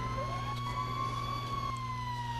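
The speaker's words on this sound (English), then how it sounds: "Turn off these sirens." A police siren in Grand Theft Auto V wails steadily, its pitch rising and falling smoothly, with a low engine-like drone underneath; no talking.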